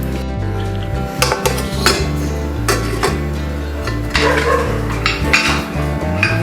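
A metal lid goes onto a hot pressure cooker with repeated clanks and clinks of metal cookware, close and fairly loud, in a home kitchen with no talking.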